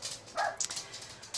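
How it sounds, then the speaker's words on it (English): Dogs bark in a home, a short burst of one or two sharp barks with a faint whimpering edge, fairly close and without talk. "there's no time of day that I can sit down to do a video without the dogs barking"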